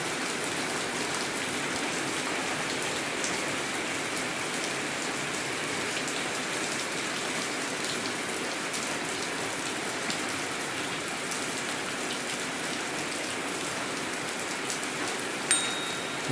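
Heavy rain pours down steadily at night, a dense, even hiss of drops on surfaces that stays loud and unbroken throughout with no voices.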